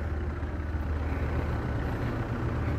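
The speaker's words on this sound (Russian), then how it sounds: "Идет погрузчик, ковш." A loader with a bucket, on a Kirovets K-701R tractor, rumbles past with a steady, loud low-pitched diesel engine drone that holds even throughout, with no voices.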